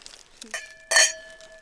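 Glasses clink in a wine toast at the Sorelle Bronca winery in the Prosecco Hills, with a soft knock followed by one bright, ringing chime that decays slowly over faint background murmur.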